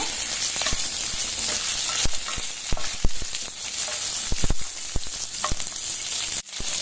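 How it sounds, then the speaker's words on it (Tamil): Dried red chillies sauté in a pan with shallots and garlic, giving a steady loud sizzle of frying, broken by repeated sharp scrapes and taps of a spatula stirring. "இது நல்லா வதங்கணும்னு காஞ்ச மிளகா போட்டு வதக்கிடலாங்க"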